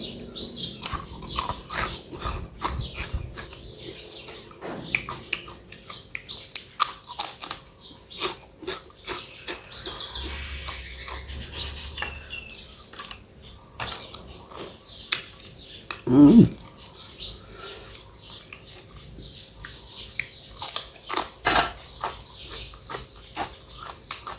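Someone eats a fresh spicy Thai shrimp and cucumber salad, with repeated close crunchy bites and chewing in irregular bursts, quiet between mouthfuls, alongside faint background chirps.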